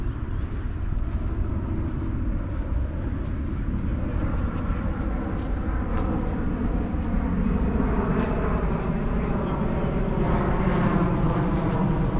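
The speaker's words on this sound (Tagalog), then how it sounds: "Pang aeroplano." An airplane flying overhead in New Zealand gives a steady, low, distant rumble that holds evenly through the whole stretch, with no talk over it.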